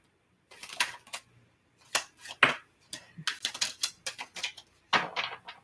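Tarot cards being shuffled by hand, a run of crisp riffling and tapping bursts with short pauses between them, close and fairly loud with no voices.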